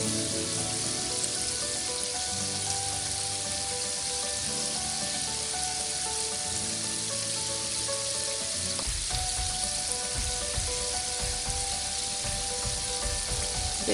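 KFC-style fried chicken sizzles in oil in a pan over low heat, a loud, continuous dense crackle and hiss throughout, with a brief stirring or turning disturbance midway and no talk.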